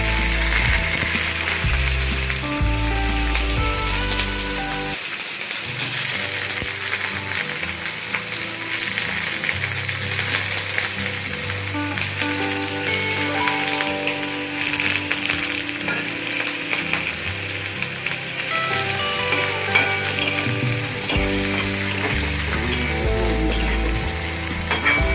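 Onion and garlic fry in oil for a Malvani-style whole masoor dal tempering, giving a loud, steady sizzle with occasional stirring scrapes and a music bed running throughout.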